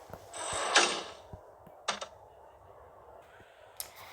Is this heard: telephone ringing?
no